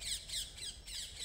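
A pigeon gives a few harsh, rapid squawks in quick succession, faint and close, with no other sound around it.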